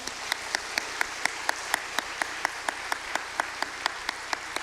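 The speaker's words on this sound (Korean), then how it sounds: "박수 한번 부탁드릴까요?" Regular, evenly spaced claps from a church congregation at a Sunday afternoon service, over a steady crowd wash, like rhythmic applause heard at moderate distance.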